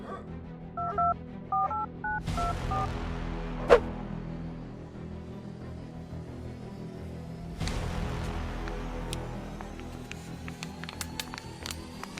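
A few telephone keypad tones beep in a short sequence, followed by quiet line noise and hum with occasional clicks.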